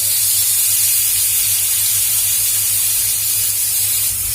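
Thin veal slices sear in a hot pan, giving a steady, loud, close hiss of sizzling that holds unbroken throughout, with no talking.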